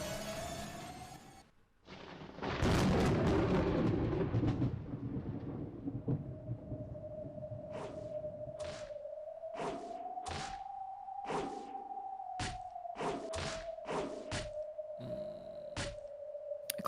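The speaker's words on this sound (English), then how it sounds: "A clang, a thud, a crack, a squish." A mix of clangs, thuds, cracks and squishes from a gory dining-hall scene in the Umineko visual novel repeats at a steady tempo over a sustained eerie tone, after a heavy rumbling burst.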